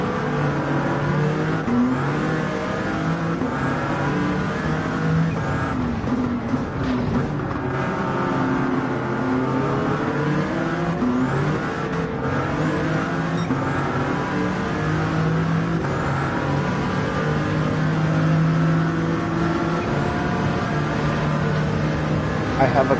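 Race car engine in Gran Turismo 7 Spec II revving and shifting through gears, a steady droning roar with rising pitch sweeps, while someone talks over it throughout.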